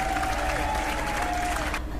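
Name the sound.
classroom audience applause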